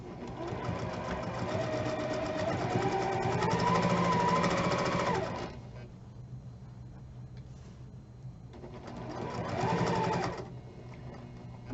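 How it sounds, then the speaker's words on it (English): A sewing machine stitches fabric in two loud, rapid bursts of mechanical chatter, separated by a brief quieter pause, with the motor's buzz carrying the rhythm close to the listener. "Now I'm going to sew just like I just did, one side at a time."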